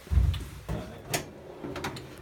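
Metal filing cabinet drawer in a wood shop, holding wood clamps, slides open with a short low rumble and then a few faint clicks and rattles, quiet and close, with no talking.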